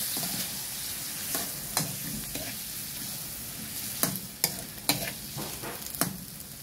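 Sweet and spicy shrimp stirred in a hot pan, with a steady low sizzle broken by sharp scraping clicks of a utensil against the pan, clustered near the end.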